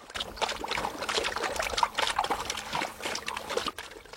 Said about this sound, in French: C'est l'occasion de faire prendre un petit bain aux chiens.